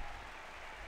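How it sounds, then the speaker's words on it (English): Crowd applause and cheering inside the Serious Sam: The Second Encounter video game, a steady continuous wash of clapping at a moderate level with no break throughout. "Oh, dude, they're clapping for us."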